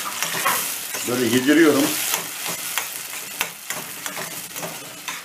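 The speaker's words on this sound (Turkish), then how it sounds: "Şimdi bu attıklarımı da karıştırıyorum güzel." Tomatoes for menemen cooking in a pan, a loud close sizzle with repeated scraping and stirring clatter, a voice speaking briefly partway through.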